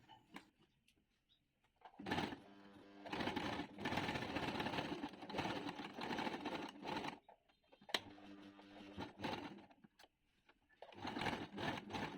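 A sewing machine stitches along the edge of trouser fabric, running in long steady bursts of rapid mechanical whirring and ticking. Brief quiet pauses separate the runs, and one sharp knock falls midway.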